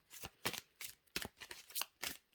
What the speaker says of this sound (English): Just shuffling some cards for you